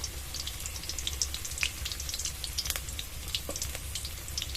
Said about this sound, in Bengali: প্রায় 3-4 মিনিট আমি মিডিয়াম আঁচে কুমড়োটা ভেজে নিয়েছি এরকম লাল করে।